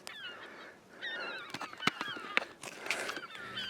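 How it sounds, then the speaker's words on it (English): Ducks call near their nests at a seabird nesting site, giving a run of honking, nasal calls that overlap one another, fairly faint and at middle distance. "Lots of nests around, lots of ducks."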